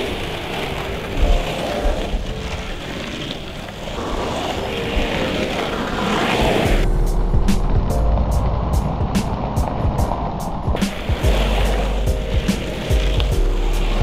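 Longboard wheels roll steadily over pavement as a rider performs cross steps on a flexy pintail, with a continuous rumbling roar and sharper clicks and board taps in the second half.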